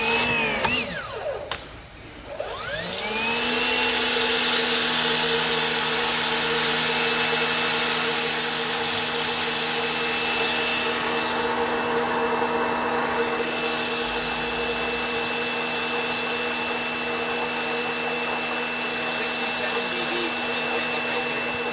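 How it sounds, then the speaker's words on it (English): An EGO Power+ electric pressure washer starts up and then runs alone with a steady, even motor whine and a hiss of spraying water, loud and close throughout. "this is probably the quietest pressure washer in existence"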